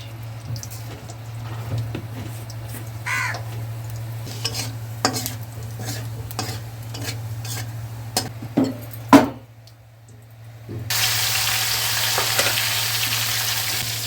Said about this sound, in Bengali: সর্ষের তেল দিচ্ছি কড়াতে, জিরে ফোড়ন দিচ্ছি